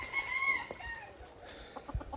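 A gamefowl hen, one of several gray hens in pens, gives a drawn-out, high clucking call up close, followed by a few soft short clucks and faint shuffling.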